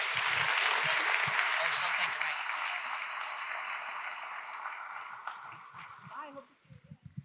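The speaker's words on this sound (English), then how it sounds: "one more time, a round of applause for Ben Lieber, please." An audience at a conference session claps in a dense, steady round of applause that slowly fades to scattered claps over about seven seconds.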